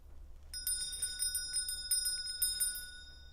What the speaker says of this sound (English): So I'll use a bell